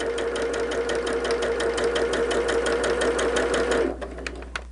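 A sewing machine runs a straight seam down one side of a quilt block, a fast, even mechanical whir with rapid regular stitch ticks, then stops near the end, leaving faint clicks.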